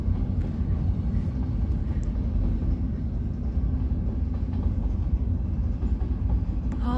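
A big freight train rumbles past continuously, a loud, steady low roar with rail clatter throughout, and no voices.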